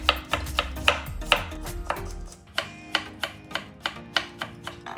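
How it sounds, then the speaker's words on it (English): A knife chops green onions and slices carrot on a board: a steady run of crisp, evenly spaced strikes, close and fairly loud, slower and more regular in the second half, with no talking. "Chop up about 2 green onions thinly. Slice the carrot thinly."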